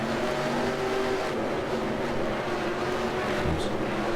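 Race cars in NASCAR Racing 2003 roar in a dense pack, their engines blending into a steady, loud, continuous drone with a brief low thump near the end and no talking.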